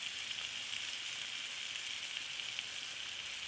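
Pork chops seasoned with salt and pepper sear in a pan, producing a constant, even sizzle and hiss that stays steady and close for the whole stretch, with no voices.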